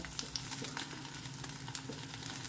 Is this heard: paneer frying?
yes